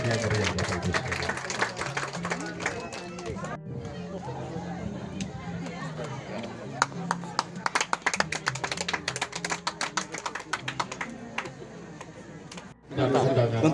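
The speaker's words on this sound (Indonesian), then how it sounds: "Ya, kita berikan tepuk tangan yang meriah Bapak Ibu sekalian." Audience clapping at an outdoor launch event in Sikka, a dense patter of applause with talk in the background, stopping near the end before louder sound resumes.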